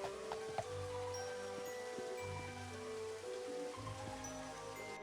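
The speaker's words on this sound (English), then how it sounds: "Let me just sit here in the rain with my lovely horse" Rain falls steadily in the video game Daggerfall, a soft continuous hiss with a few scattered drop ticks over a low ambient hum.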